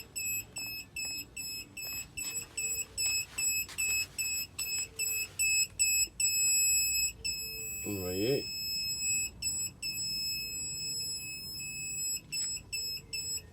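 A smoke detector being tested beeps in a fast, regular run of shrill electronic tones, loud and close, with a brief pause and someone speaking quietly between bursts.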